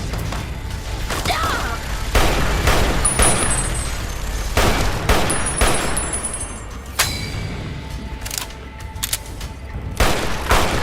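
Gunfire and explosions in a fight against Nightkin in the video game Fallout: New Vegas, with a unique rocket launcher in use. Repeated loud shots and booms go off close by, some in rapid bursts, throughout the clip.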